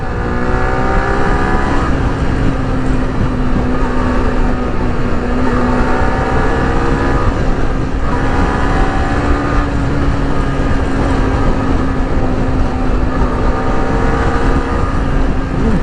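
Road traffic with vehicles overtaking produces a continuous loud engine drone, one steady pitch holding throughout with faint swells as vehicles pass close by, no talk.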